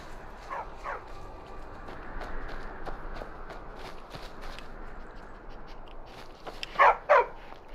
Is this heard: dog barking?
yes